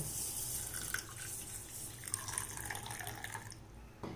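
Water poured from a tap or jug onto a tablespoon of sabja (basil) seeds in a bowl, a steady close trickle and splash running for a few seconds, alone with no talk.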